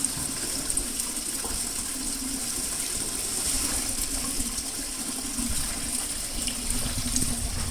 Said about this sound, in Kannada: 1 ಬಕೀಟ್ ನೀರು ಹಾಕ್ಬಿಟ್ಟು ನೋಡೋಣ ಎಷ್ಟು ಹಿಡಿಸುತ್ತೆ